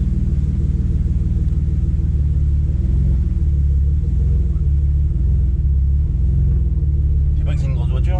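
A BMW 325i bi-turbo engine idles after starting, a loud deep steady rumble close by, running unbroken with a brief higher noise near the end.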